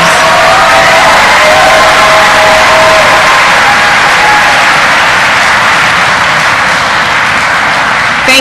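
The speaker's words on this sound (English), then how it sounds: "I wanted to give him a round of applause, please." A crowd at a high school honors concert in San Joaquin County bursts into loud, steady applause mixed with cheers and whoops, filling the hall continuously from start to finish.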